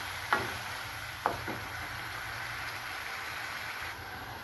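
Tomatoes and papad sabzi ingredients being stir-fried in a pan, with a steady soft sizzle throughout and two sharp clinks of a spoon against the pan early on.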